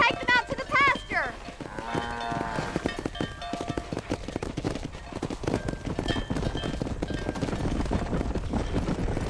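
Cattle herded toward pasture in Red Dead Redemption, with cows lowing and horse hooves clip-clopping steadily throughout, loud and close, a busy mix of animal calls and hoofbeats.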